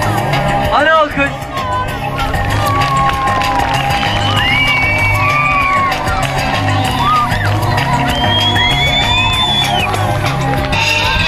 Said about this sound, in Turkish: Hadi alkış.